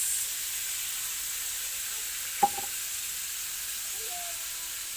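Sardines frying in a pan with papaya, a steady soft sizzle and hiss throughout, broken once by a single brief clink partway through.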